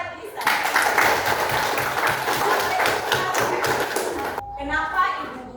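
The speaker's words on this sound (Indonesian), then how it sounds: "tepuk tangan buat Lisa." A classroom of children claps for a classmate named Lisa: a dense patter of quick claps lasting several seconds, then a sudden stop as a voice follows.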